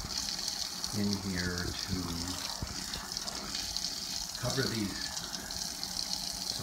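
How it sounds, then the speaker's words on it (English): Water gushes from an apartment shower into a small Pyle portable washer tub, a steady splashing rush running under a voice speaking throughout. "I'm going to use the shower here and put enough water"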